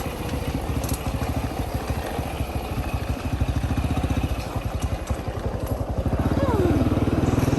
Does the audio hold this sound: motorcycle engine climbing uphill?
yes